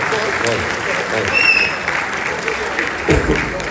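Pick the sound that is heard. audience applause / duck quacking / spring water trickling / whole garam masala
audience applause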